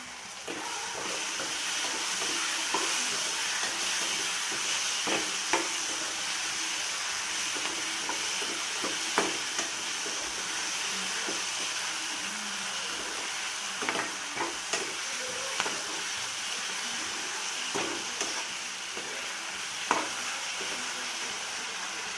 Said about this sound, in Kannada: ಈ ಥರ ಎಲ್ಲನೂ ಚೆನ್ನಾಗಿ ಫ್ರೈ ಮಾಡಿಕೊಂಡು